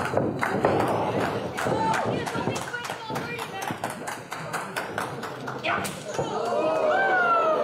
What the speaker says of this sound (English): many chanting for Funny Bone, many chanting for Lio.